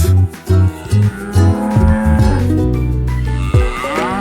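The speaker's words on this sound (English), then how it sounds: "Calf." A calf moos, starting with several short clipped calls and then one long, drawn-out low bellow, close and clear.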